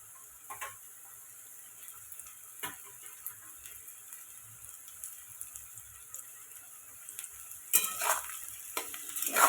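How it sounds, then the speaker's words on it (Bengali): Capsicum and spices frying in a pan for fried rice, a low continuous sizzle broken by occasional spatula taps and scrapes, growing louder and busier toward the end. "মশলা একটু ভেজে নেব"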